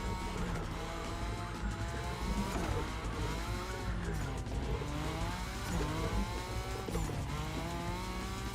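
A car drifts in a racing video game, its engine revving and wavering in pitch along with tire squeal across several seconds, loud and close, with someone talking at times over it.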